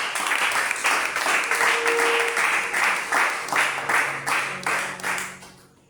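A church congregation claps together in sustained, even applause, loud and close, with a rhythmic pulse that fades toward the end; no one speaks over it.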